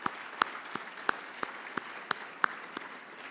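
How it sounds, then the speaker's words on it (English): A business luncheon crowd gives soft applause that comes across as a faint patter of scattered claps, with a few sharper individual claps landing at a steady rhythm. "A round of applause to the USG folks."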